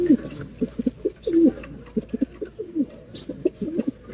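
Pigeons from a late breeding round in a racing loft cooing repeatedly in soft, throaty bursts, close and fairly loud, with a few faint chirps behind.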